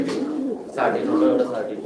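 Fancy pigeons on a farm in Sylhet coo close by in soft, throaty bursts, with a short call at the start and a longer rolling coo after a brief pause.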